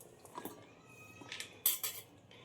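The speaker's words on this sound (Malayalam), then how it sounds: "എന്നിട്ട് ഞാൻ ഇതൊരു വേറെ പാത്രത്തിലോട്ട് മാറ്റുന്നുണ്ട്" Cut food being tipped from one kitchen vessel into another, with a few light clinks of utensil against dish, the sharpest pair near the end, quiet and close with no talking.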